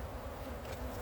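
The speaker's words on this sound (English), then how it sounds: "And I got a bee in the palm of my hand." Honeybees hum steadily around an open beehive as frames are pulled out, a continuous close buzzing drone with no talk over it.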